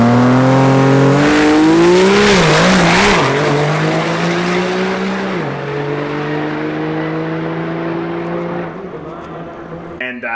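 A drag racing truck launches hard down the strip with a loud, rising engine roar and a brief tire squeal, then fades into the distance as it pulls away.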